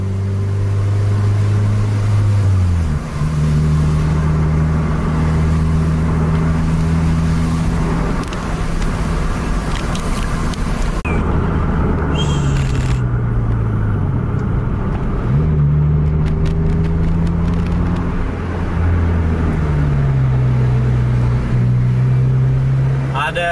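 Heavy intercity tronton buses racing along a road in Aceh, their diesel engines droning and shifting pitch as they accelerate and change gears, with passing traffic whoosh and loud continuous road noise throughout.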